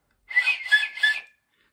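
A loud whistle made without fingers, with the tongue held down, sounds as three sustained, bright, slightly wavering tones in quick succession. It is close and clear with nothing else in the background.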